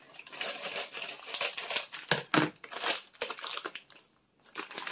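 Crinkly plastic rustles and snips as scissors cut open a bag, a close, irregular series of crisp cuts and crackles with brief pauses.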